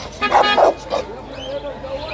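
A guard dog at an outdoor dog market gives a few loud yelping barks close by, then whimpers faintly while people talk in the background.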